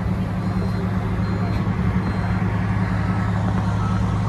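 Several fire trucks stand at a burning old house, their heavy engines idling in a loud steady drone while a reversing alarm beeps repeatedly and faint voices carry in the background.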